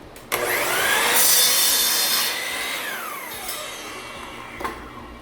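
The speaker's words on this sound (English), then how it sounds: "I'm just going to cut it to measurement, sand it down a little bit" Power saw cutting pallet wood for a DIY farmhouse table, a loud sustained buzzing rasp running for about two seconds, then easing into lighter grinding and sanding, with a short sharp bite near the end.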